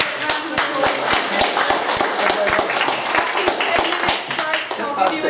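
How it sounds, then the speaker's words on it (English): Applause from a lecture audience at an evening gathering, loud and close, with sharp individual hand claps standing out over a dense wash of clapping and some voices. "Let's give you a good round of applause"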